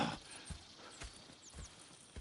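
Horses in Red Dead Redemption 2 clop along with a steady, uneven rhythm of hoofbeats on the ground, fairly close, with a faint whinny in the background.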